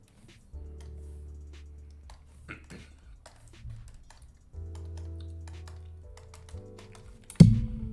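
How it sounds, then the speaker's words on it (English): Pen clicks on a drawing tablet during live digital painting in MS Paint, a sparse series of light taps and ticks scattered over a low steady hum, with one sharper louder click near the end. "the clicking you're hearing is my pen. It's a little loud."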